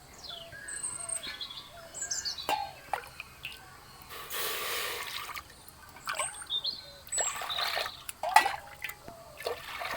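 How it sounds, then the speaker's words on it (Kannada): Around seven cups of water splash into a pressure cooker in one short pour, amid scattered drips and light clatter, while birds chirp softly in the background. "ಕುಕ್ಕರಿಗೆ ಒಂದು 7 ಕಪ್ಪಷ್ಟು ನೀರು ಹಾಕೋತೀನಿ."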